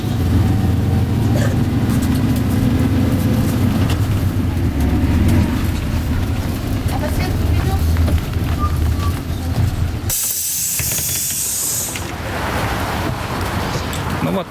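City bus number 11 rolls through Abakan with loud continuous engine and road rumble, a brief hissing burst near the end, and voices faintly audible underneath.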